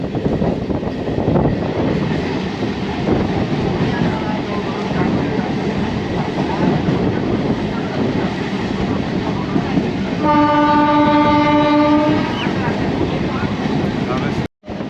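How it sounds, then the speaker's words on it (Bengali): A local train runs into Palsit station on the line beside the Durgapur highway, a steady loud rumble of wheels and carriages with a long horn blast sounding near the end, voices mixed faintly into the noise. "ট্রেন এখন ঢুকছে পালসিট স্টেশনে"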